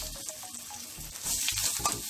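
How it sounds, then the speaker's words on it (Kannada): Dried red chillies, broken into pieces, sizzle in hot oil with seeds and curry leaves as a tempering for fenugreek tambuli, a steady close crackle with a few stirring scrapes and louder bursts near the end. "ಇದು ಕೆಂಪುಗಾಗುವ ತನಕ ಫ್ರೈ ಮಾಡಬೇಕು."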